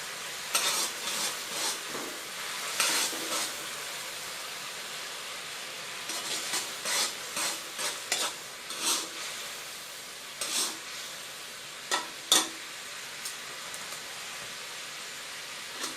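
A sweet-sour sauce for son-in-law eggs simmers in a pan with a low bubbling hiss, punctuated by irregular scraping and clicking as a utensil stirs it, with no voices.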